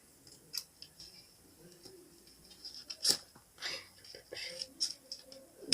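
Scissors struggle to cut through labels on newly bought school supplies, giving a scatter of short, crisp snips and rustles close to the mic, with a voice speaking quietly at times.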